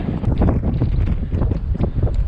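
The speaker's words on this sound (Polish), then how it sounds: "Ale cholernie tam wieje." Strong winter wind buffets the microphone on a mountain in the Góry Suche range, loud gusty roaring rumble close to the mic, rising and falling throughout.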